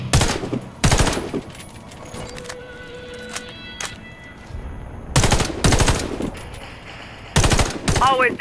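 Loud automatic rifle bursts fire at a target in Warface training, four separate volleys with short, quieter gaps between them and no voices.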